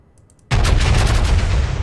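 Main guns of the battleship North Carolina BB-55 firing in World of Warships: a sudden massive broadside blast erupts after a quiet moment and rolls on as a loud, sustained booming roar.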